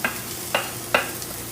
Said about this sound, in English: You guys are going to hear it sizzle just a little bit.